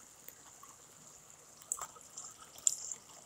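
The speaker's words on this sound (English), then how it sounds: "Look at all that water that's getting down." Rainwater runs down a rain gutter in a thin, steady trickle, faint and hissy, with a couple of louder splashing gushes near the end.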